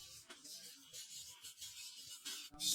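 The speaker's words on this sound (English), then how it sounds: "after the acid, Jesse needs to give the blade a meticulous sanding." Faint, close scratchy rubbing strokes of sandpaper on a Damascus steel knife blade, repeated in short irregular passes.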